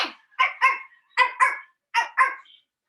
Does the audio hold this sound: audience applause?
no